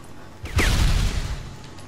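A grenade goes off with a single loud boom in Sniper Elite 3, its rumbling blast decaying over about a second with no voices over it.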